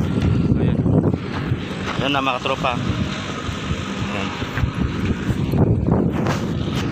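Strong wind roars and buffets the microphone at a steelyard during a sandstorm, loud and constant from start to finish, while someone speaks over it.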